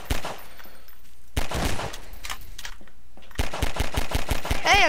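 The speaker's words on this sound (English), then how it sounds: "You got that shotgun." Shotgun blasts in Garry's Mod come in loud sharp bursts, a few spaced shots followed by a rapid string of repeated reports near the end, with almost no talking.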